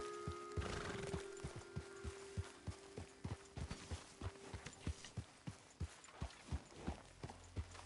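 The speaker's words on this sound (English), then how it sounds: "Hey, get that horse out of here!" In the Red Dead Redemption 2 video game, a horse gives a faint whinny near the start, then its hooves clip-clop in a steady trot rhythm throughout, distant and quiet.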